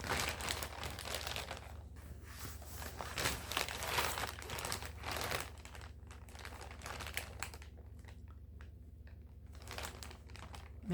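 Plastic bag handled close up, giving repeated crinkling and rustling bursts of varying intensity over a quiet background, with brief pauses between them.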